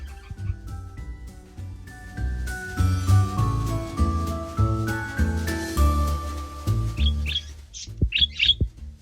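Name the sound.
pet parakeet chirping near her eggs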